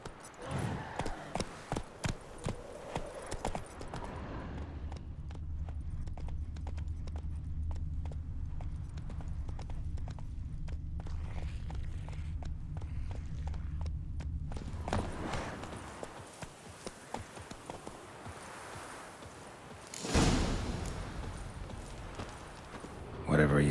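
Roach, a horse from the video game Witcher 3, sets off in a rapid rhythmic gallop of hooves over steady background music, then slows to a few clip-clopping steps, with voices speaking over the hoofbeats.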